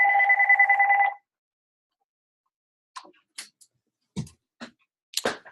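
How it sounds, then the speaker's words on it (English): A phone rings once near the start, a steady electronic trill of about a second, followed by several soft, scattered clicks and knocks. "Oh, great, my phone is ringing."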